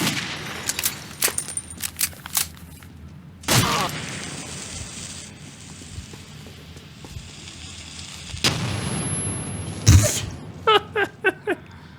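Gunfire and explosions from the video game Metro, played maxed out on twin GTX 760 cards in SLI: sharp shot bursts, a heavy boom near the middle and another blast late, then quick rapid shots, with a faint voice under parts.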